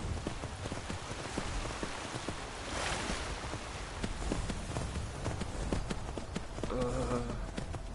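Horse hooves clop in a quick, uneven patter while riding in the Skyrim VR video game, a busy run of sharp taps over soft background noise, with a brief voice near the end.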